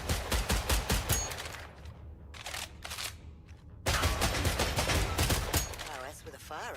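Rapid volleys of gunshots at targets in the video game Killing Floor III, loud and close, in two dense bursts broken by a brief pause.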